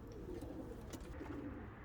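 German homing pigeons coo in a coop, soft repeated throaty murmurs under faint background noise, fairly quiet and continuous with no talk.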